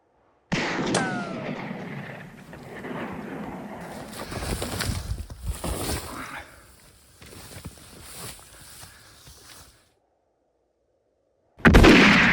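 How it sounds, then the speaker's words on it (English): Gunshots fired in a short film scene set near trees: a sharp report opens, followed by a run of loud cracking bursts that trail into rumbling echoes, a stretch of near silence, then another sudden loud blast at the end. "What are you shooting at?"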